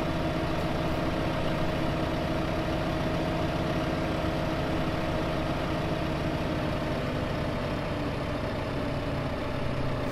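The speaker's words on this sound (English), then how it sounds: "This tractor's really feeling the weight." Tractor in Farming Simulator 2015 hauling two loaded trailers, its engine holding a constant low, strained drone throughout with no voices.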